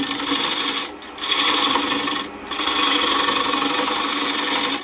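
A parting tool bites into spinning wood on a lathe, giving a steady, close scraping rasp broken by two short pauses where the cut lifts off.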